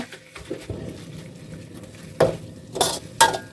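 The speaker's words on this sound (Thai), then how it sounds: "เราก็จะผัดจนหมูสุกแบบนี้นะคะ" Pork stir-fried in curry paste for a spicy pork and eggplant curry, a soft low sizzle under a few close, sharp spatula scrapes and clinks against the pan that grow louder toward the end.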